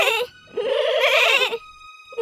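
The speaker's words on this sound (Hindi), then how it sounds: "उन्होंने बकरी के बच्चों की आवाज सुनी" Young goats bleat in a wavering, loud, close cry, two long bleats separated by a pause, with another starting at the end and no talk.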